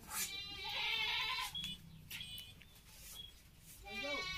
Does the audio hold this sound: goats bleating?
yes